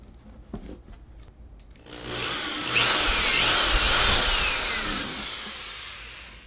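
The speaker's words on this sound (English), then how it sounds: "Basically what you're trying to do is drill the hole perfectly" A power drill bores a hole during a Land-Surf Ranger install. It starts after a quiet moment, then whines steadily and loudly with a rising and falling pitch before easing off.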